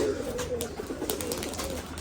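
Pigeons at a pigeon farm coo faintly in low murmuring notes, with people talking nearby and a few brief knocks in the background.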